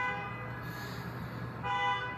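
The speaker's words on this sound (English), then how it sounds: "Honking from Waymo cars like this is a constant sound for neighbors living near 2nd and Harrison Street" Driverless Waymo cars sound their horns near 2nd and Harrison Street: a sustained, steady honk holds throughout and swells louder near the end over low traffic rumble.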